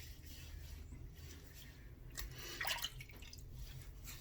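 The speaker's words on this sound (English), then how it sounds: "let's go ahead and wet the face" Water splashes and drips faintly as a face is wetted before a straight-razor shave, with a short, slightly louder splash in the middle against a quiet background.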